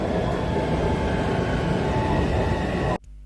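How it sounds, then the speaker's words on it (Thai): A steady, loud rumble of a Taipei metro train arriving at the station fills the space for about three seconds, then cuts off abruptly into near silence. "แสดงว่ารถไฟจะมาเราก็รอเลยนะครับ"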